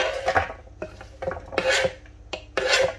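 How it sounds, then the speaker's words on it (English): A knife chops onions on a board in a home kitchen, with a run of sharp, close, irregular cuts and scrapes in short bursts. "I'm also going to just cut the onions"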